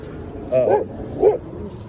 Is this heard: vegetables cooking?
no